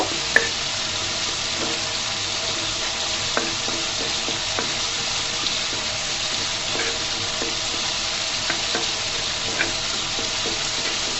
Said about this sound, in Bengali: বেসনটাকে আমি ভাজা ভাজা করে নিব, শুধুমাত্র যেন কাঁচা গন্ধটা চলে যায় সেই পর্যন্ত ভাজা করে নিব।